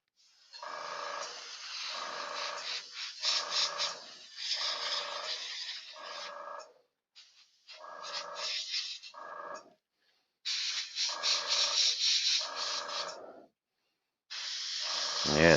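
An airbrush hisses in repeated short spray bursts of about a second each, separated by brief pauses, as rust-coloured weathering is sprayed onto a model train coupler during live weathering.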